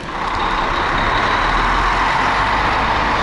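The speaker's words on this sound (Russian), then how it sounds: "Сейчас автобус уедет" A bus pulls away outside a hotel in Sharm El Sheikh with a loud, steady engine roar and heavy road noise close by. No voices are heard.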